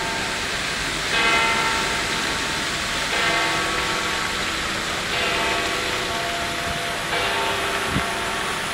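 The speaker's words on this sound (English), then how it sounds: "now we're hearing the bells go off here" Bells ring out near a basilica in Italy, heard from a high vantage point as repeated swells of pealing over a steady outdoor wash, moderately loud and somewhat distant.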